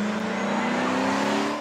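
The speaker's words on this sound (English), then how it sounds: "cars speed right on through." Cars speed through a city crosswalk, a loud close engine roar sweeping past in one continuous rush of tire and motor noise, with no talking.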